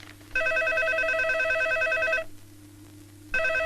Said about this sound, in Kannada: ಏನ್ ಫೋನ್ ಬಡ್ಕೋತಾನೆ ಇದೆ?